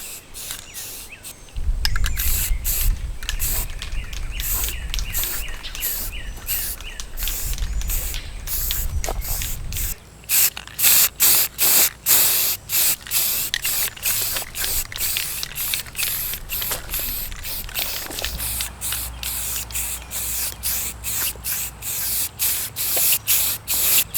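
Spray paint can spraying outdoors in wind, long stretches of close hiss broken by rapid rhythmic stop-start bursts, with low wind rumble underneath and no talking.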